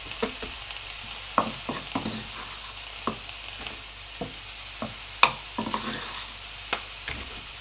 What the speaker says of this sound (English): I'm going to add I'm adding the ginger and garlic in there.